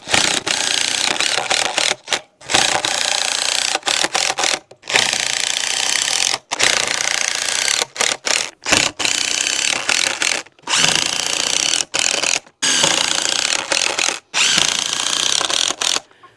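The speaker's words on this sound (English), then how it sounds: "So let's get it screwed into the post." Power driver drives screws for a chicken treat feeder into a wooden post, a loud harsh buzzing grind in repeated bursts separated by brief pauses, close up with no talk.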